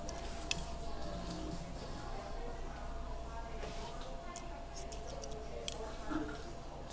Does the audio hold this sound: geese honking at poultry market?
no